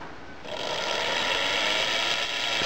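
A series electric motor spinning anti-clockwise, starting with a jump into a steady, loud whirring hum that holds evenly for a couple of seconds, close up with no talk.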